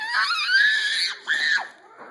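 A child gives two long, high-pitched excited screams close by, with a brief break between them and a quieter tail at the end. No talking is heard.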